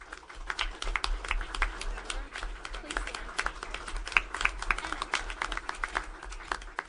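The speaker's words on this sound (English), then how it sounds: "give them a round of applause because it was wonderful" An audience at an evening combined meeting gives a faint, scattered round of applause for two teachers, light claps heard from a distance over a low hum.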